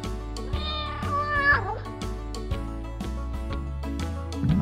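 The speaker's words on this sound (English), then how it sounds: "can you hear that purring sound?" A cat meows in a drawn-out, wavering cry over a steady musical backing with plucked notes; no clear purring stands out.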